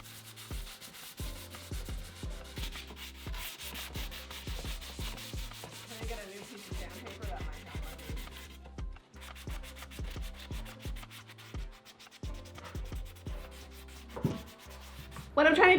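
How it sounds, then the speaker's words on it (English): Electric sander working across painted furniture, moving against the direction of brush strokes, a steady close buzzing grind with rhythmic low pulses throughout and a louder burst at the very end. "sometimes I take my sander and I go the opposite direction of my brush strokes"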